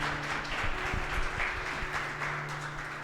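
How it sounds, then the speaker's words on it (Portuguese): A church congregation at a celebration service applauding, a steady wash of many hands clapping at moderate distance, continuous and even for a few seconds. "Vamos aplaudir Jesus na vida dessa galera"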